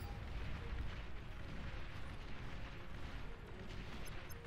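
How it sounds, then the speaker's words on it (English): In the strategy game Beyond All Reason, long-range rockets fire and explode in a dense, continuous rumble of distant booms and blasts that never lets up. "they're shooting rockets at each other from long range as much as they can."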